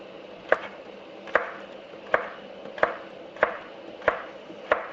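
Kitchen knife cutting celery slices into sticks on a board, seven sharp, evenly spaced chops about one per 0.7 seconds, close and clear with quiet room tone between strokes.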